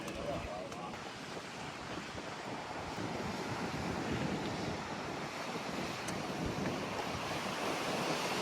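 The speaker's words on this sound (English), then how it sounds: "Look at these waves. They're actually pretty decent size for the Gulf." Gulf surf breaks and washes steadily beside a fishing pier, a continuous wide roar of water that swells slightly, heavily buffeted by wind noise on the microphone.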